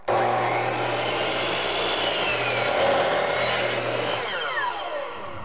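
A power saw cuts a short piece of wooden door trim at a 45-degree angle while a rotted exterior door frame is being repaired, whining steadily and loudly for about five seconds, close by, with no talk.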